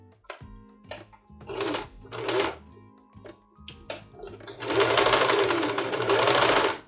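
A sewing machine stitches a tablecloth seam in short start-stop bursts that build into a long, steady run of fast, loud mechanical whirring, with faint talk in between.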